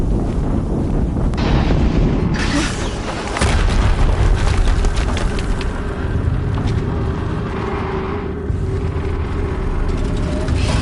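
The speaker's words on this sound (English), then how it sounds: "Another explosion." Deep booming explosions in the video game Horizon Zero Dawn, with heavy low rumble and crackling debris, loud and continuous across the stretch, rising in bursts around the start and middle.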